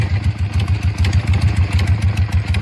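Harley-Davidson Sportster 1200 Custom bobber fitted with a Screaming Eagle 2 exhaust and Cobra air filter, its V-twin idling with a loud, steady, lumpy low throb close by, no one speaking.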